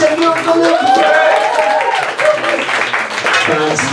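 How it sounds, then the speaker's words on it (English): Comedy club audience applauding and clapping after a stand-up set, a dense continuous wash of hands from a full room with voices mixed in, steady and loud throughout. "keep clapping, give it up for the lovely people in the front"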